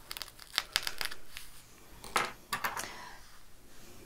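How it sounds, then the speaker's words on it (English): A stitch ripper snips into machine-embroidered fabric, giving a few sharp close crisp ticks and crinkly tearing bursts, quiet and without talk. "sometimes I think it's easier just to do your first cut with a stitch ripper,"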